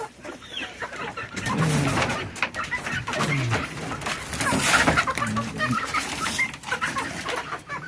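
Backyard chickens cluck and murmur continuously while being fed outside their pen at dusk, a busy, close chorus of overlapping clucks with scattered pecking and rustling.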